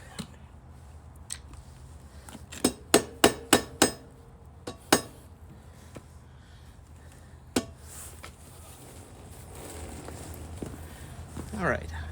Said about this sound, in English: try and knock that rear caliper free